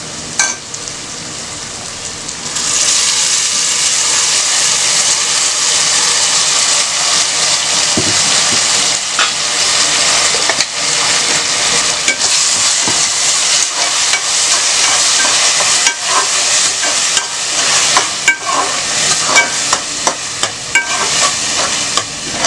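Ground masala paste sautéing with onions for chicken curry, a loud, dense, continuous sizzle and hiss that starts after a quieter opening, with occasional spoon clicks and stirring scrapes throughout.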